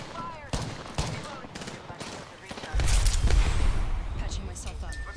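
Gunfire in the video game Apex Legends, with scattered shots early on and then a sustained, loud burst of automatic fire, mixed under excited players talking over voice chat.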